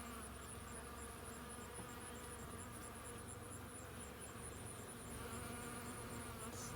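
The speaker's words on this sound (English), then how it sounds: "I'm videoing this bee collecting pollen from the corn." A bee gathers pollen from corn plants outdoors, giving a steady close buzzing drone that holds through the whole stretch with a faint high whine above it and no talk.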